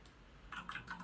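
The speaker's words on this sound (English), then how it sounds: "Type it in for us." Brief, quiet run of keystrokes on a computer keyboard, a handful of soft clicks in quick succession with no talking.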